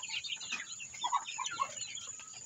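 White itik ducks on a small backyard farm give soft, scattered calls and clucks, fairly close and moderately loud, with no voices over them.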